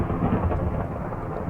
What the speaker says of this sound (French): Il y a l'orage.